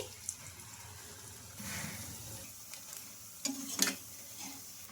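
Rice-batter punugulu fritters fry in hot oil with a low, steady sizzle, broken by a few louder clinks and scrapes of a utensil near the end; no one speaks.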